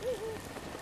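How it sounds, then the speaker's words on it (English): Steady, faint patter of rain falling in the video game Zelda: Breath of the Wild, a soft, even wash over the brief moment. "what's with the rain?"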